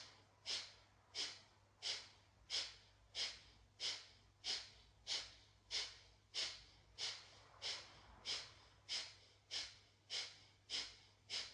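Breathing during beginner upper-body yoga practice: a long run of about sixteen evenly spaced, forceful nasal exhales, each a short rushing puff followed by a quiet gap, close and fairly soft with no talking.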